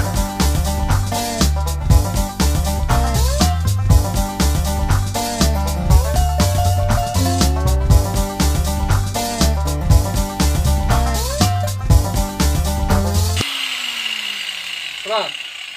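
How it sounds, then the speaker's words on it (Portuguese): An abrasive cut-off saw grinds through the protruding tips of a tire being made into a planter, a loud continuous whine with repeated bites into the rubber, then stops near the end. "Agora nós vamos pegar o policorte e vamos cortar essas pontas que ficou aqui"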